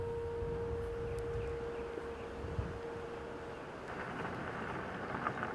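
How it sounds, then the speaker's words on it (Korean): Steady autumn morning rain falls in a mountain wetland, a continuous broad hiss with a faint low tone through the first half and scattered drop patters near the end, no voices. "가을을 재촉하는 비가 내리던 아침"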